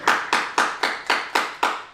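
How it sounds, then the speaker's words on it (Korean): A church congregation claps in celebration, seven crisp, evenly spaced claps at a brisk steady beat, close and fairly loud. "우리 축하의 박수 한번 드릴까요?"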